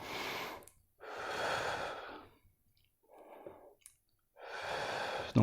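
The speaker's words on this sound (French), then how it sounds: "on inspire et on expire sur l'effort" Heavy breathing in and out during exercise effort, long forceful exhales and inhales alternating with pauses, close and loud with no talk.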